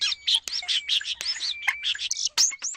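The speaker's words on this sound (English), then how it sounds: "This is starling." A starling calls in a rapid, continuous run of chirps, whistles and chattering trills, close and fairly loud with only brief gaps, and no voices.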